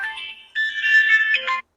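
A mobile phone ringtone plays a short bright electronic melody, loud and close, cutting off abruptly after under two seconds.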